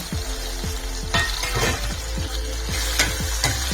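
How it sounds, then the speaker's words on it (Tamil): Mango pieces sauté in a pan for a no-onion, no-garlic mango kara kuzhambu, with a loud, close sizzle of frying under repeated scraping stir strokes at a regular rhythm, with no talking. "மாம்பழம் கொஞ்சம் வதங்கட்டும்."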